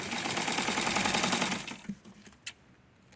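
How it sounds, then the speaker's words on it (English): A sewing machine runs in a steady, dense rattling burst while stitching lace panties for a small doll, then stops after under two seconds, followed by a few faint clicks and handling sounds. "So what I'm going to do now is sew it to keep it there."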